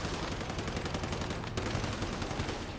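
Rapid automatic gunfire from the video game Once Human, dense and continuous bursts filling the whole moment with no talk.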